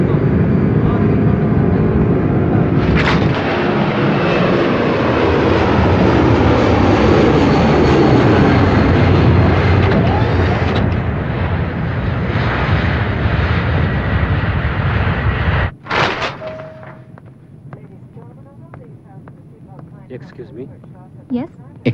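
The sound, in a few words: airplane taking off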